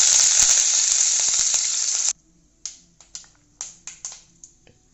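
Mustard seeds, urad dal and curry leaves hit hot sesame oil in a loud, dense sizzle for about two seconds. The sizzle then cuts to near silence, broken by sharp, scattered crackles and pops.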